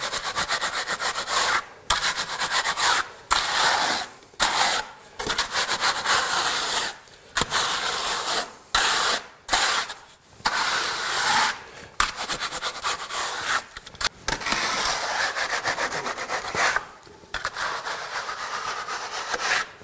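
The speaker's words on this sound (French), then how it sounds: "Je régularise un peu à la truelle pour finir ensuite à la taloche." A steel trowel and float scraping across a freshly poured wet concrete slab laid over an existing floor, producing repeated rasping strokes a second or two long, separated by brief pauses, close and fairly loud with no voices.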